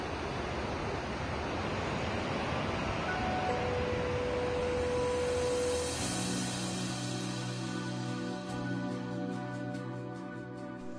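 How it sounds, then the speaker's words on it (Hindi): Steady, broadband rushing of the Kali River's flowing water at Dharchula fills the whole clip, constant and fairly loud, with a faint tonal hum drifting through. "सुनाई दे रही है काली नदी के पानी की आवाज़"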